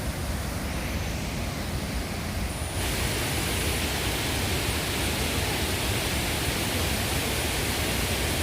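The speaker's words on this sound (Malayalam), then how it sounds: "വെള്ളച്ചാട്ടത്തിൻ്റെ ഏറ്റവും ടോപ്പിലാണ് നമ്മൾ നിൽക്കുന്നത്." A waterfall heard from its top gives a loud, dense, steady roar of rushing water that fills the scene from start to finish, rising slightly partway through, with no voices.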